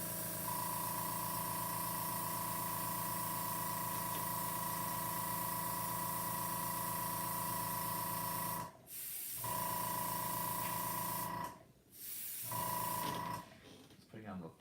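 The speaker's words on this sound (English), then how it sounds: "this airbrush, just pushes out the paint really hard" Airbrush spraying paint onto custom Vans sneakers, a steady close hiss with a constant high whine running for several seconds before breaking off briefly twice, then resuming near the end.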